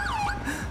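An ambulance siren wails in the video game GTA5, its pitch sweeping up and down in a short, fairly close burst with no speech over it.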